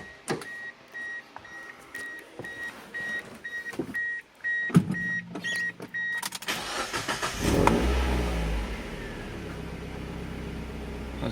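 A Mazda MX-5 Miata with a newly fitted exhaust cranks over with a whirring starter, then catches and settles into a steady, close idle rumble.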